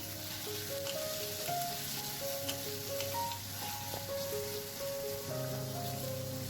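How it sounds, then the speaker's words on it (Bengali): Diced potatoes with ginger and chopped green chillies fry in a pan with a steady, even sizzle throughout, while soft music plays in the background. "দু মিনিটের মতো আলুটা ফ্রাই হওয়ার জন্য আমি রেখে দেবো"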